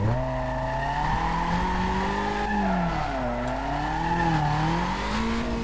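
Honda Civic with a VTEC engine racing in Need for Speed (2005, hard mod), engine tone continuously rising and falling through revs under steady loud play with faint tire squeal, no talking.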